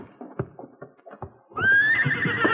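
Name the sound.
horses neighing and hooves as riders mount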